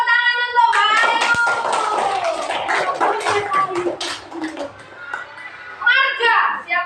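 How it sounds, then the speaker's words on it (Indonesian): Grade 4 schoolchildren in a classroom break into quick, scattered clapping for a classmate, close and lively, mixed with children's excited voices and chatter throughout. "Tepuk tangan untuk Mbak Ayu."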